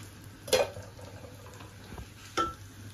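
Washed, drained rice drops into a pan and is stirred, giving two soft scraping, rattling bursts against a low background hum.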